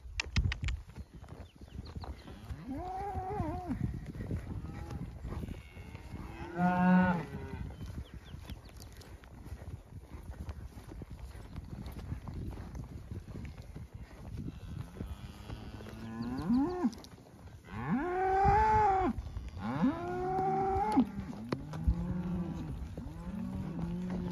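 Cows and calves moo repeatedly while a cow-calf herd is moved through brushy ground, with several drawn-out, fairly close calls spaced across the clip and louder overlapping bellows toward the end.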